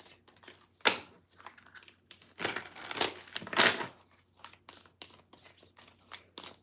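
Tarot cards shuffled by hand in a quiet room, with soft crisp riffles and papery crinkling bursts, one sharp flurry near the middle and quieter rustles around it.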